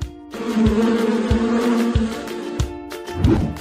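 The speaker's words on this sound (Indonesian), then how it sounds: "Lebah." A steady, close bee buzz drones continuously, with a few soft thumps underneath and a brief rise in the drone near the end.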